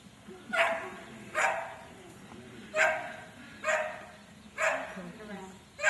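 A sheepdog rounding up sheep barks about six times at a steady, even pace, loud and fairly close, with faint background noise between barks.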